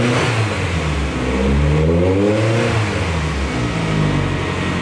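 A turbocharged Austin Mini engine with a custom stainless steel exhaust revs loud and close, its deep rasping note climbing and falling through several throttle blips with no talk over it.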